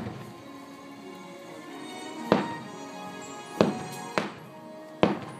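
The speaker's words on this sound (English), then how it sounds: "Watch the fireworks, honey." Fireworks going off at a Disney resort house: four sharp, distant bangs spaced a second or so apart over a steady outdoor hum, with no talk.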